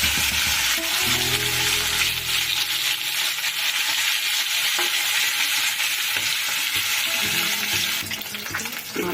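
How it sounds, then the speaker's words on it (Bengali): A fish head fries in hot oil in a pan and is broken apart while being stirred, giving a loud, continuous sizzle with intermittent scraping stirs close by, and no talking. "মাছের মাথাটাকে আমি খুঁটি দিয়ে দিয়ে এইভাবে ভেঙে দিয়েছি ভালো করে ভাজার জন্য"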